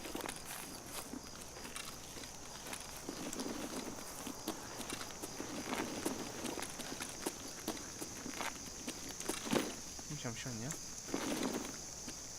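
Footsteps in the shooter game Escape from Tarkov, a steady series of crisp close steps with some heavier thuds, set against faint ambient game noise and occasional voices.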